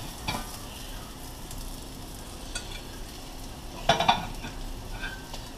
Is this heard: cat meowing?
no